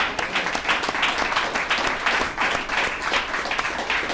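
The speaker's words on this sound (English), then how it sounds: "Let's give Aaron another round of applause." People at a recovery services alumni meeting give Aaron a round of applause. Many hands clap in a steady, fairly close burst that lasts the whole moment.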